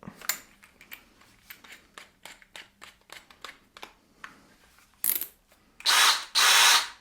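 Power drill driving into wood during a mitre saw stand build, short bursts of drilling with clicks and handling noise, ending in two longer, louder whirring runs close by.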